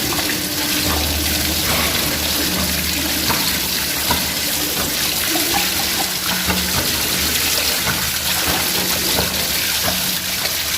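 Water streams out of the air tank tube of a pressure booster pump, a loud, constant rushing flow with a low mechanical hum underneath and no voices.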